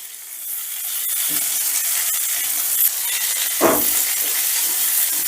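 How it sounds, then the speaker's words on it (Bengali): Vegetable pulao with fried cashews and raisins stirred in a pan over a low gas flame: a steady close sizzle and hiss, with two distinct scraping sweeps of the spoon. "এবারে আবারও আমি সমস্তটা একটু মিশিয়ে নিচ্ছি"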